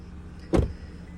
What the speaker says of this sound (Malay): Dia punya panoramic sunroof, cermin boleh buka.